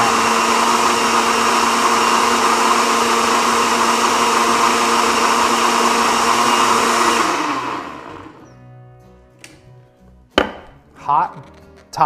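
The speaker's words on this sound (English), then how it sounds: "Hot top blender, not always the best thing, just so you all know." A blender mixing pasta sauce with heavy cream runs loud and steady for about seven seconds, then switches off and spins down, followed by a few clunks and handling sounds.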